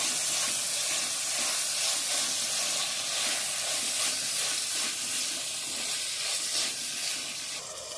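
Onions and herbs sautéing in a pan for chicken gravy make a dense, continuous hissing sizzle with faint stirring, close and steady until it eases slightly at the end, without talking.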